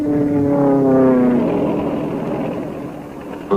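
Propeller racing airplanes roar past at an air race, a loud steady engine drone with a falling pitch sweep as they pass close, then fading into a broad rush with a brief thump at the end.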